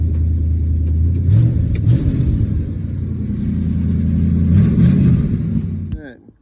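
Old plow truck engine idling steadily with a rough, leaky exhaust, a low continuous rumble that fades out near the end, with a voice talking over it.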